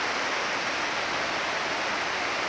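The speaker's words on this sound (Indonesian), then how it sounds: "deras sekali ya itu. Hujan." Heavy rain pours steadily beside rice fields, a dense, even hiss close to the listener with no pauses and no voices.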